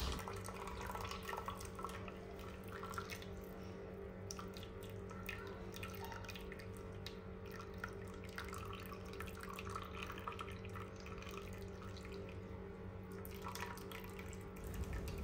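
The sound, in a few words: squeezing hot water out of homemade paneer in cotton cloth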